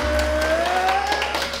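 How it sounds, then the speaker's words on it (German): Dinner guests greet the host with applause, a burst of clapping that runs steadily across the moment over a low constant hum, fairly close and fading slightly toward the end. "Begrüßen wir unsere Gäste zu dem perfekten Crispy Rob Dinner mit einem dicken,"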